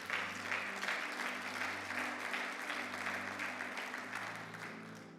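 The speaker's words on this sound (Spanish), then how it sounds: "Dale más fuerte el aplauso al Señor." Congregation applauding during a church service, a steady sustained clapping that stays fairly even throughout with a low hum of organ or keyboard tones underneath.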